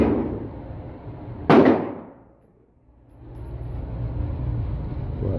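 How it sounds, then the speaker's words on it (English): A single loud, sharp report from a 300 Blackout rifle at an outdoor gun range, fairly close, followed by a quick decay and a quiet stretch before the background noise returns. "Go ahead and shoot"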